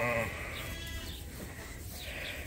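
A ewe on a sheep farm gives a short, wavering bleat at the start, then quieter calls from the flock follow faintly against a soft outdoor background.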